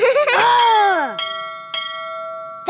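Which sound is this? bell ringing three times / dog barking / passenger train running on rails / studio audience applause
bell ringing three times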